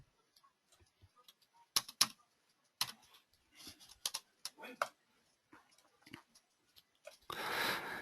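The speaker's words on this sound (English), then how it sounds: "you can go and type them in here." Quiet, sparse keystrokes on a computer keyboard while entering stop-loss and take-profit values on a trading platform, isolated clicks and short bursts of taps with a brief rush of noise at the end.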